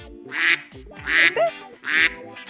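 Three loud, raspy duck quacks in an even rhythm, close and clear with short gaps between them and no talk, played as the clue in a Malayalam television guessing game.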